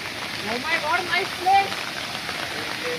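Heavy rain pours steadily at a dam filled with reddish floodwater, a continuous close hiss with a voice speaking over it.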